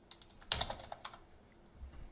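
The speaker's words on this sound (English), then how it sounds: "Typing." Computer keys clack in a short, irregular burst of typing, close and fairly quiet, with a few sharper strikes followed by lighter taps and a brief pause near the end.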